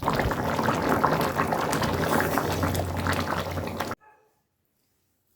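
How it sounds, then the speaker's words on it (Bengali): Vegetable khichuri simmers and bubbles in a pot, a steady, dense, close boiling texture that runs for about four seconds before cutting off abruptly into near silence. "এবার সবকিছু একসাথে ভালো করে মিশিয়ে কিছুক্ষণ ফুটিয়ে নেব।"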